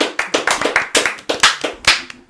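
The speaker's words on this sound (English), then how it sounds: "round of applause, everyone" A small studio audience claps for guests being introduced on a talk show, with dense, uneven hand claps rising and falling in short bursts, fairly close and with no talking over them.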